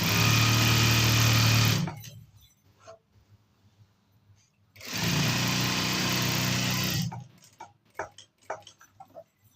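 An electric sewing machine stitches a fall onto the hem of a saree in two loud, whirring runs of about two seconds each. Quiet gaps between them carry light clicks and handling sounds.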